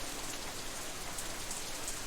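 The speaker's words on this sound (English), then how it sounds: "The rest of my voice is completely drowned out by even heavier burst of rain." Heavy rain pours down in the visual novel game Katawa Shoujo, a steady, dense hiss of drops on surfaces that is fairly quiet and unbroken, with no voices.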